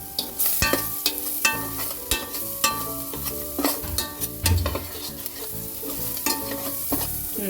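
Ingredients sautéing in ghee for a healthy soup, a spoon scraping and stirring rhythmically against the pan over a soft continuous sizzle, close and clear.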